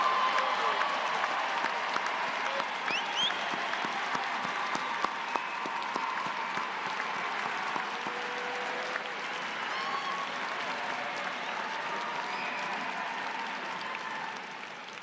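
Sustained applause from a large crowd at a Florida State University commencement ceremony fills the space, steady and even throughout with a few scattered cheers.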